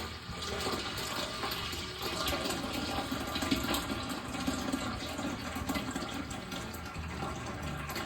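Homemade beef bone broth, rich with fat, pours into a container in a continuous splashing, gurgling stream that stays close and steady throughout.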